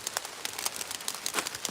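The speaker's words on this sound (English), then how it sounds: "it's raining better than I thought it was going" Rain pattering steadily outdoors during a fishing outing, a dense close hiss of drops with scattered sharper splashes, no talk over it.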